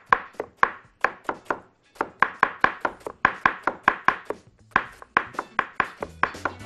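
An onion is finely minced with a knife on a cutting board, a quick run of sharp, even chops close up in steady bursts with short pauses between them.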